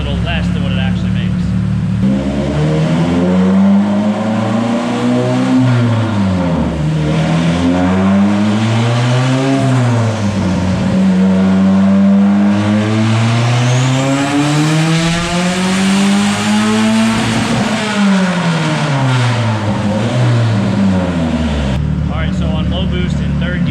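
A turbocharged Nissan 240SX roars through a low-boost third-gear pull on a dyno, its loud, continuous engine note swelling and sweeping in pitch for the whole stretch.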